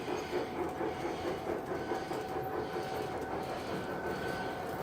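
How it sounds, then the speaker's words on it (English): Toy M&M train runs on its track indoors, a faint, steady rattling clatter of small wheels with a thin motor whine, low in level and continuous. "There goes the M&M train."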